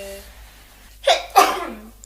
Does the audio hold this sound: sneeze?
yes